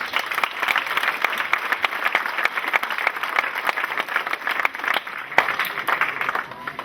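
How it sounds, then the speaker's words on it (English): Audience at a football fan show applauds a guest, a sustained round of clapping with individual sharp claps standing out, moderately loud and close, with no talk over it. "give him a round of applause again, please"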